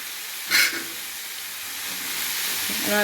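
Capsicum frying in oil, a constant hissing sizzle with a brief louder stir or clatter near the start, steady and close.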